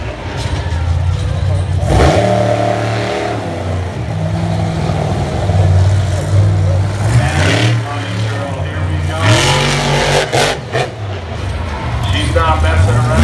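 A freestyle monster-style truck engine revving hard and struggling with mechanical issues at an off-road event, loud surging and dropping revs with sharp bursts, under an announcer's voice.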